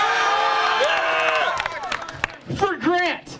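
A high school crowd at a burping contest cheers and applauds a contestant with loud whoops and yells that rise and fall in bursts, mixed with clapping and excited voices.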